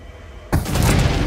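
An explosion in the video game Hitman: after a quiet low rumble, a sudden loud blast erupts at about half a second and swells into a sustained, roaring, crackling burst.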